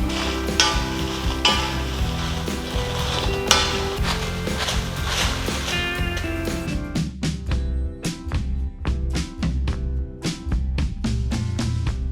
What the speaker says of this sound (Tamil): அடுத்தது வரமிளகாவை நம்ம கொஞ்சம் கொஞ்சமாக போட்டு லேசாக வறுத்து எடுத்துக்கலாம்